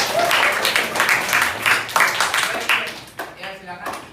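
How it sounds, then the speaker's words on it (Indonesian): A class applauds in a room, a burst of rhythmic clapping from several people with voices talking and cheering over it, fading out toward the end. "tepuk tangan."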